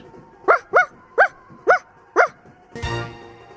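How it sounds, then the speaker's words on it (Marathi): A dog named Moti barks five times in a steady series, close and clear, followed by a short burst of other noise. "कोणाचं भुंकणं आहे? आठवतंय का या कुत्र्याचं नाव?"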